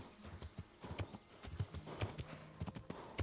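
Horse hooves clip-clop in a steady walking rhythm as a horse is ridden in the medieval game Kingdom Come: Deliverance, soft and fairly close with faint ambient background.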